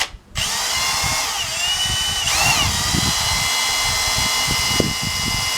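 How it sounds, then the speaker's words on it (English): A power drill with a sharp bit bores into plastic, its motor whining in a continuous loud drone with shifting pitch sweeps and gritty bursts as the bit bites, following a brief quiet start. "Must be a real sharp drill bit."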